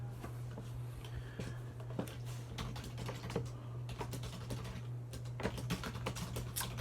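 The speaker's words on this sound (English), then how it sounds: "A lot of typing." Rapid, uneven keyboard typing with clustered key clicks, steady and fairly close, over a constant low electrical hum.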